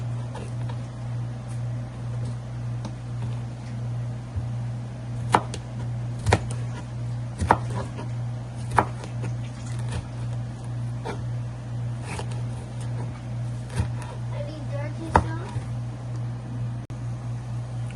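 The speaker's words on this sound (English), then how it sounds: "I'm just going to add the other half of the onion to the complete thing." Half an onion being chopped for a chow mein stir-fry: sparse, irregular knife strikes on a board, fairly close and crisp, over a steady low background hum.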